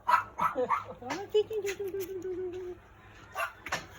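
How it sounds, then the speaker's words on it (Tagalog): A dog nearby lets out a few sharp yips and barks, then a drawn-out whining bark that fades, with people talking over it. "May aso dito."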